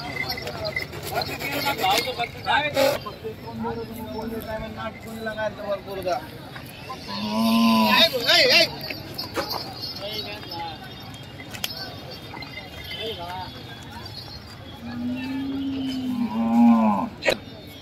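Bulls moo loudly twice, fairly close, at a cattle market amid a busy outdoor crowd with people talking and passing vehicles.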